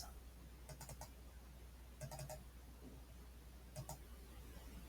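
Typing on a computer keyboard while entering lidar data: three short quiet bursts of rapid key clicks spaced a second or so apart over a low steady hum.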